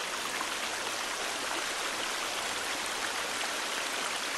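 Steady rushing white noise of a waterfall in The Forest survival game, a constant broad hiss of falling water without breaks, moderately quiet and continuous.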